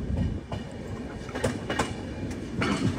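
A Chennai–Jaipur Superfast Express train rolls slowly away from Durgapura station, its wheels giving a soft steady rumble with a few sharp clicks and light squeals over the track joints.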